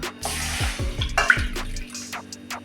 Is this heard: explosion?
no